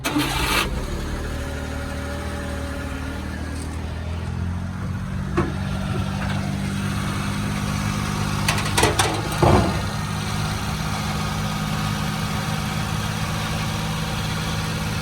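A 1998 Suzuki Carry mini truck's engine cranks and catches early on, then settles into a steady, close idle that runs on evenly, with a few brief knocks and rattles around the middle.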